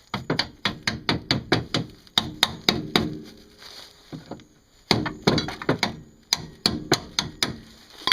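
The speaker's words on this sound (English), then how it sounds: "I'm going to gently tap that in." A rear suspension part on a Mercedes W202 C230 is tapped into place with a hammer, two quick bursts of sharp, evenly spaced metallic knocks separated by a short pause.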